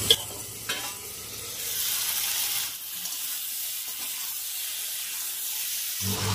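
Elephant foot yam stalks and potatoes stir-fried in a pan over a medium gas flame, a steady close sizzle with scraping stir strokes near the start that settle into an even hiss.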